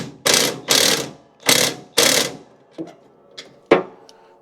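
A bolt on a Craftsman Z530 mower deck is tightened with a ratchet, giving four loud, close rasping strokes in steady rhythm followed by a few lighter clicks.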